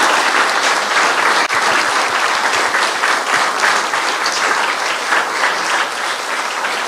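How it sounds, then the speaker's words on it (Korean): An audience claps loudly and steadily at an honorary doctorate ceremony, a dense, sustained burst of applause filling the hall for several seconds. "다시 한번 큰 박수 부탁드리겠습니다"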